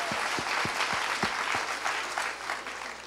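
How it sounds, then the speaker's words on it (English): An audience at a motivational talk gives a round of applause, steady crowd clapping with a few loud individual claps standing out near the front, continuing for a few seconds. "So give yourselves a round of applause."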